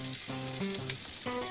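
Meat sizzles and fries steadily in a pan for rabbit paella, a continuous close crackle with no voices, while low tonal hum runs underneath.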